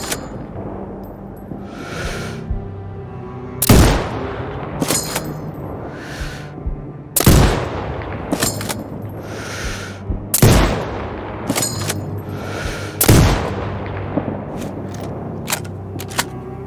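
Sniper rifle shots in the video game Sniper Ghost Warrior Contracts 2: four loud, sharp cracks spaced a few seconds apart, each ringing out with a long echo, plus fainter distant reports in between.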